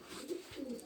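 Pigeons in a breeding loft give a soft, low coo, heard faintly and briefly as one murmuring call.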